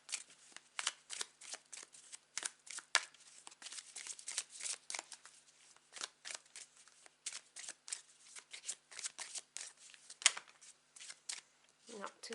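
A deck of tarot cards is shuffled by hand in quick, crisp riffling bursts that come in an irregular rhythm, close and clear against a quiet background.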